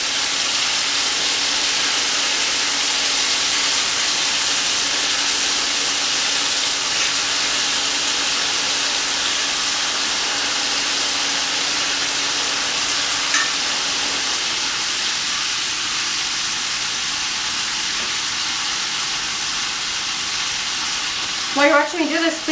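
Browned chicken goes back into a pan for chicken paprikash after the bottom is scraped, giving a steady, loud broadband sizzle that holds throughout, with a few brief clinks of utensil on metal near the end and no talk.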